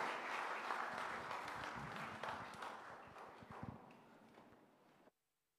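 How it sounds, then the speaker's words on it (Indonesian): A church congregation at a Sunday worship service claps together, producing a dense, steady applause that gradually thins and fades before stopping abruptly, with faint voices mixed in. "Berikan tepuk tangan untuk Jehovah Nisi"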